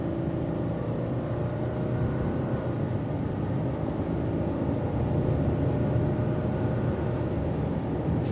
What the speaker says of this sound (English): You're gonna hear that drone note from the engine and the Lineartronic CVT transmission